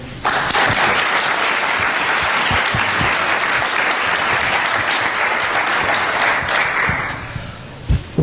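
An audience claps warmly to welcome Mariano and Luca Rubinacci and Bruce Boyer onstage, a dense, steady round of applause that fades after about seven seconds, followed by a few stray claps.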